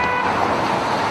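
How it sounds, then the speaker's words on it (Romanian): Car horns sound steadily in street traffic during a protest. A continuous loud blare of honking blends with the roar of the road. "Cetățenii claxonează neforțat, neselit, marea majoritate claxonează împotriva lui Dodon"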